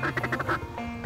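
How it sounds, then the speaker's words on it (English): Ducks quack in a quick run of several nasal calls during a waterfowl hunt in British Columbia, near and clear, followed by a brief pause and one more quack. "Here come the ducks."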